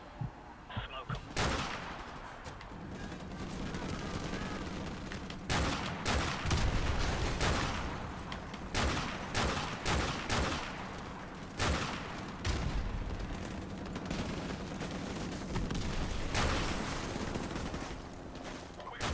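Gunfire in Modern Warfare Remastered comes as sharp bursts and single shots through a low battle rumble, loud and close in irregular clusters.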